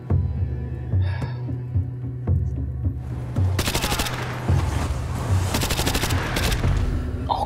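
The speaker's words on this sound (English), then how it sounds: "Hit by a mortar." A mortar blast and gunfire ring out in the Modern Warfare 2 video game, with rolling rumbling booms at first, then loud sustained bursts of rapid automatic fire up close.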